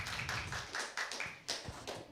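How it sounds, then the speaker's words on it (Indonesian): A small audience at a campus talk show in Papua claps in a short, sparse burst of distinct hand claps, fairly faint and close. "Berikan tepuk tangannya dong Kak Hana."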